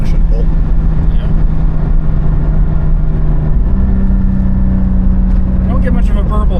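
A Porsche Spyder's engine hums steadily under acceleration while held in gear, a droning note that shifts pitch partway through, heard from inside the car beneath road noise.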